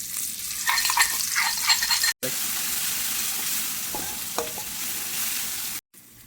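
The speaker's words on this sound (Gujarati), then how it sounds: "થોડીક નાખીશું હિંગ, 2 ચમચી જેટલા તલ અને આદુ મરચાં લસણની પેસ્ટ." Asafoetida, sesame seeds and ginger-chili-garlic paste sizzle in a pan for dudhi muthiya, a loud, dense, continuous crackle with stirring sounds, cut by two brief silent gaps.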